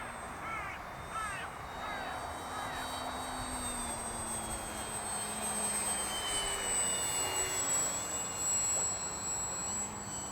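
An XFLY-Models 1.2m Glastar trainer RC airplane flies in windy outdoor conditions, its thin, steady motor whine running throughout. Crows caw repeatedly nearby early on.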